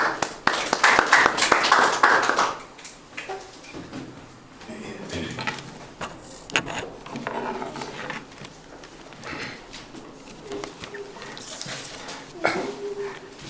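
A church congregation claps together at a Sunday evening service in a loud, dense burst over the first two seconds, then the sound drops to quieter room noise with scattered knocks and movement.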